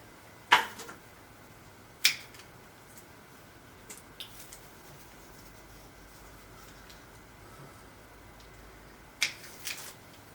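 Pruning shears snip through branches of a Ficus petersii bonsai, giving a few sharp, close clicks spread across an otherwise quiet stretch with faint background hiss.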